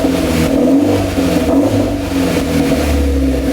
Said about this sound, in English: Go ahead and rev it up a little bit again.